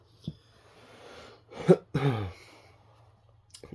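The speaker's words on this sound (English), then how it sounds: "Excuse me a second. There's that cough." A short throat-clearing cough followed by a second rougher cough, close up, with a small click and quiet breathing around them; no talking.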